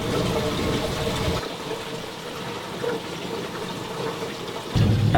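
Water running and splashing as drinking water is changed for young animals at a field lab in Belize, a steady gushing pour that fills the clip, louder at the start and again at the end.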